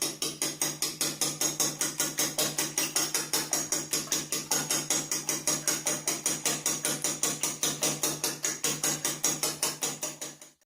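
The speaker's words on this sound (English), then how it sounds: "And whisk it thoroughly. You can use a whisk or a fork for this." A whisk or fork beats egg wash in a bowl, a brisk, steady run of rapid clicking strokes that continues evenly for about ten seconds and then stops.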